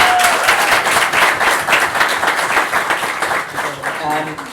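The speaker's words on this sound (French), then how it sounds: "Can we give her a round of applause?" Congregation applauding in a church, a dense burst of many hands clapping close and loud, sustained for several seconds with faint voices mixed in.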